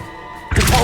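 The Confringo spell is cast in Hogwarts Legacy, a sudden loud, fiery burst that lands after a short quiet hum.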